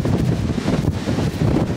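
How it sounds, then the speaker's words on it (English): Strong wind buffets the microphone in a steady low rumble, with gusts rising and falling throughout and no voices, outdoors at a castle in Kansas. "I cannot believe how windy it is."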